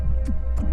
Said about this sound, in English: the heart beating too fast, too slowly, or irregularly